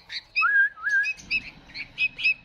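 Kashmiri bulbul chicks in a Baghdad bird reserve give sharp, whistled chirps, a rising warble followed by a string of short calls, close and clear over faint background noise.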